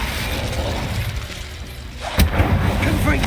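A Confringo blasting spell explodes in Hogwarts Legacy: one sharp, loud boom with a cracking burst lands a little after two seconds. Rumbling game ambience runs before it and a fading roll follows.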